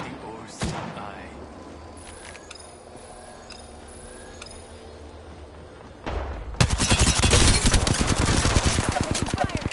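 Video game gunfire: a sharp shot early, a stretch of quieter combat with distant pops and voices, then a sustained loud burst of rapid automatic fire closing out the final few seconds.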